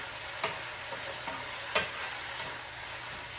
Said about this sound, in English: So I'm just frying up my cabbage.